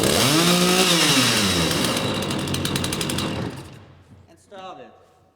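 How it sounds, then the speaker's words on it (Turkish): A chainsaw at a timber sports contest is pull-started, sputtering into a loud rising engine roar that then cuts down to idle, with a brief second burst near the end and talk underneath. "Testereyi nasıl çalıştırıyorum?"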